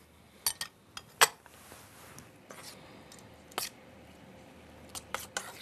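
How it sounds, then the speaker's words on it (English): A spoon knocks and clinks against a bowl as it stirs chopped bean sprouts for egg foo young, with scattered light taps and soft scraping spread through the stretch. "Here are the bean sprouts that we've chopped up. I'm just going to stir these together."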